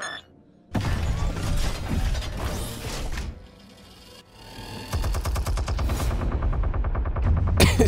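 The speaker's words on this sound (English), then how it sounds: "It's just got a machine gun in the ceiling." Ceiling-mounted machine gun firing in a Batman video game, long rapid bursts of loud rattling shots with mechanical clanks and a short lull between bursts.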